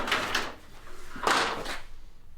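A six-foot Little Giant ladder folding up, giving two pairs of broad sliding, clattering bursts of metal joints close by with a brief pause between them, no talking.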